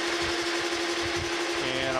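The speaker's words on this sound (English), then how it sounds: "I'm going to use a threading tool here." Metal lathe turning as a threading tool cuts into a nut during a steam stoker engine restoration, giving a loud, steady machine hum with a faint rhythmic chatter, and a voice speaking over it.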